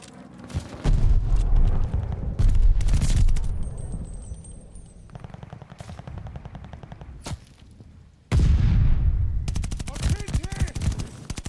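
Cooper carbine fire in a Call of Duty match comes in rapid bursts and long strings of shots separated by short lulls, loud and close, with game sounds and a player talking at times.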